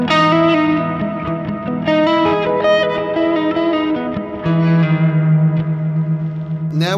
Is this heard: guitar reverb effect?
yes